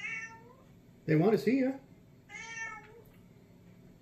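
A cat meows loudly for about a second, with several harmonic calls close to the microphone, set between lines of speech from people nearby.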